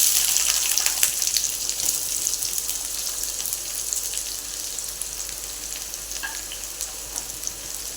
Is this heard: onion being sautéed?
yes